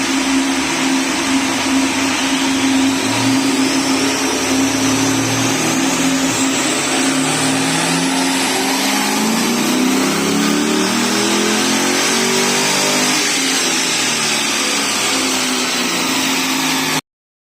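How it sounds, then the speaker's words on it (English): A car with a bog-stock LS engine makes a power run on a dyno. Its loud, continuous engine roar climbs steadily in pitch as the revs build, then eases near the end, with no talk over it. "we'll do a power run and we'll see how much power we can get just out of a bog stock LS"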